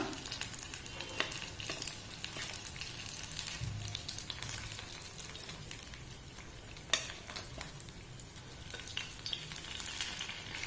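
Oil sizzles and crackles steadily as banana snacks fry in a pan, a soft continuous frying hiss with occasional small pops.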